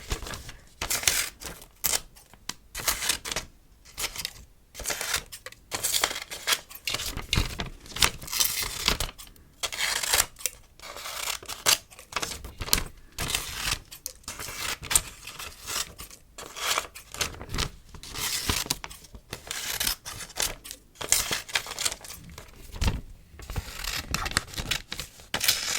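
Close, quiet crisp snips and rips of old catalogue paper cut with scissors repeat irregularly, with short bursts of crinkling and tearing and brief pauses between them.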